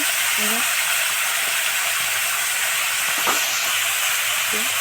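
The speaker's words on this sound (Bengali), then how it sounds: "শুকনো লঙ্কা দিয়ে এখন সবজিগুলো ছেড়ে দেবো" Vegetables sizzling in hot oil with panch phoron and dried red chillies, a steady loud hiss of frying that continues without a break while a voice speaks over it.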